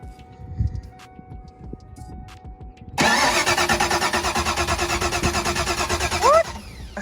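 A 1993 car engine with a bad ground cranks loudly after the key is turned, a steady rhythmic churning starter that runs for about three seconds before stopping, following a quiet stretch with faint background clicks.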